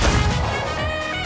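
Star Platinum landing a basic M1 punch combo in a JoJo fighting video game, heard as a dense burst of loud, crunchy impact hits over busy game sound with no talk.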